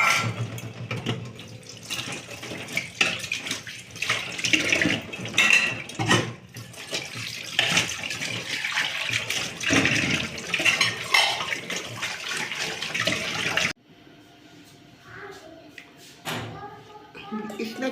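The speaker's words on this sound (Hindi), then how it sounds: "छोटा बर्तन धो रही थी।" Small dishes are washed under a running kitchen tap: water splashes unevenly with clinks and scrapes for most of the stretch, then cuts off and leaves a few quieter, scattered sounds.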